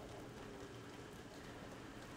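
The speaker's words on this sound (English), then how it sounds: "And it's raining, so this is gonna go out." Steady, faint rain hisses evenly across the whole stretch in the Don't Starve Together video game, a dense wash of patter with no other sounds over it.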